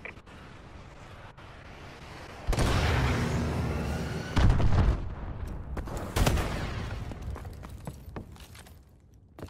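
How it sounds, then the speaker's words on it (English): Missile strike explosions rumble in Call of Duty Advanced Warfare, with several heavy booms arriving in quick succession over a background of game noise, loud and close. "Friendly missile strikes inbound."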